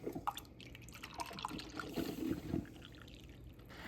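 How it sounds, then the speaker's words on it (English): Coffee poured into a cup during a home morning routine, a soft liquid trickle with light drips and clinks, fairly close and quiet, with no talking. "pour my cup of coffee"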